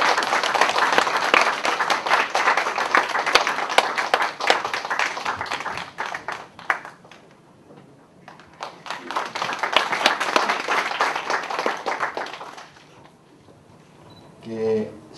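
Audience applause at a Catholic lecture event, a burst of dense clapping that fades, swells again and dies away, followed by brief sounds near the end; close and fairly loud.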